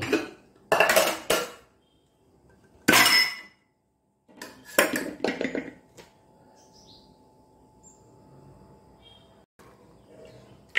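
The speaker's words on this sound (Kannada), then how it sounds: "ಇಲ್ಲಿ ನೋಡಿ ಕುಕ್ಕರಿಗೆ ಹಾಕೊಳ್ತಿದ್ದೇನೆ" Dry chickpeas clatter and rattle into a metal pressure cooker in a few short bursts, followed by quiet kitchen background.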